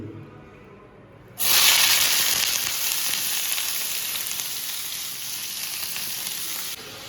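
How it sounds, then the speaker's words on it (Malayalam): Onions hit hot coconut oil in a frying pan with a sudden loud sizzle, then fry in a steady, close, bright hiss that slowly eases for several seconds before cutting off near the end. "അത് ചൂടായി നമുക്ക് ഇനി കുറച്ച് ഒനിയൻ ചേർക്കേക്ക്."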